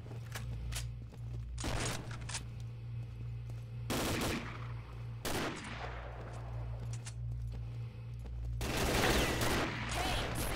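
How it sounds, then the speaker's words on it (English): Gunfire in a video game match: repeated bursts of rapid shots and single cracks, loud and close over a steady low engine-like hum, with one long sustained volley near the end. "I was trying to shoot them"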